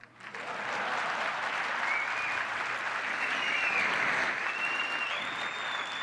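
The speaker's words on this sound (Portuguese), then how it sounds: "Cadê as palmas?" A large audience breaks into sustained applause after a business speaker's talk. Dense clapping rises quickly and holds steady and loud throughout, with a few whistles cutting through.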